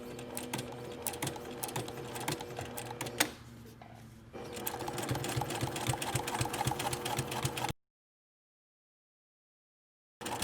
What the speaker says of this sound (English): we're going to be edge stitching about 1/16 of an inch away from this upper fold